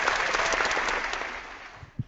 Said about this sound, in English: We had to bring in the applause yet again, just for you.